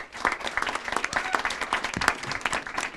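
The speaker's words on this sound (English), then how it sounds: "join me and give a big applause to this event" Audience applause at a Universal Children's Day event, a dense crowd clapping steadily and fairly close for the whole stretch, with no voices standing out.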